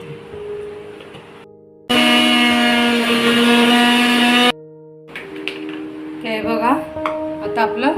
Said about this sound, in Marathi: हे मी आता मिक्सरला वाटून घे